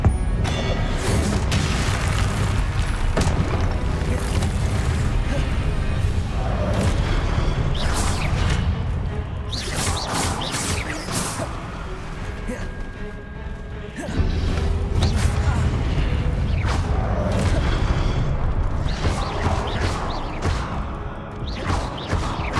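Confringo blasting spells exploding in the Hogwarts Legacy video game: a dense, continuous wash of booms, crashes and whooshing magic impacts that stays loud throughout, with heavy low rumble and brief lulls between bursts.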